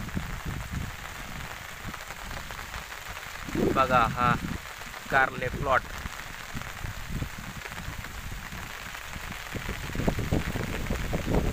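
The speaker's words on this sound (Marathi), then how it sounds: "आता पाऊस सुद्धा चालू आहे." Steady rain falls over a bitter gourd plot, a soft even hiss throughout, while someone speaks briefly partway through.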